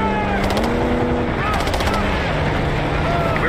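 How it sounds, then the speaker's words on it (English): Rapid gunfire rattles in bursts during a desert battle in Call of Duty: Black Ops 6, with a helicopter nearby, under constant loud combat noise and overlapping voices. "Got gunfire to the right."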